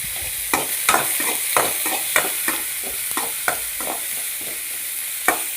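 Salted onions frying in a pan give off a loud steady sizzle, with a regular series of spoon scrapes and taps as they are stirred close by.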